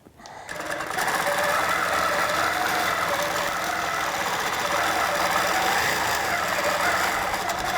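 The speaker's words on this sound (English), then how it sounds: "I'm going to pull my bottom thread up. Okay, and I'm going to move it back into place, and then I'm going to sew along it." A sewing machine runs steadily along a fabric strip, a loud continuous mechanical whirr that starts within the first second and holds at an even level to the end, with no talking.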